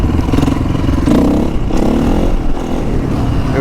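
Honda CRF450R dirt bike riding a practice loop on a lot, its engine revving and pulling steadily nearby with gear clatter and wind buffeting throughout.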